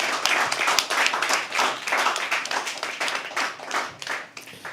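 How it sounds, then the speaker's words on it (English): Audience applause at a live poetry open mic at The Habitat: a room of hands clapping in a dense, fluttering rhythm, close and steady, with a few faint voices. "Can we please have an applause?"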